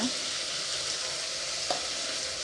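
Cooked ridge gourd with coriander powder is stirred in a pan for a sambar, giving a steady soft sizzle with a brief scrape of the spoon partway through.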